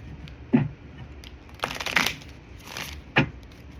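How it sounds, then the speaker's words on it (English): Several quick ruffling bursts of cards being shuffled, close and crisp, with short pauses in between and no talking. "we're gonna shuffle that again because one card escaped"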